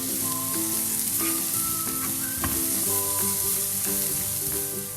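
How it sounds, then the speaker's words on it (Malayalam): Sliced onions with salt sauté in a pan for Kerala fish molly, a steady close sizzle with occasional stirring clicks, while faint melodic tones run underneath throughout. "എന്നിട്ട് നന്നായിട്ടൊന്ന് വഴറ്റിയെടുക്കാം."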